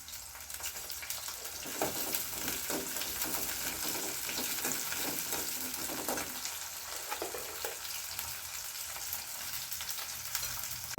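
A handful of garlic cloves sauté with onions in a pan, producing a continuous sizzle with bursts of scraping stirs, moderately quiet and close, with no one talking.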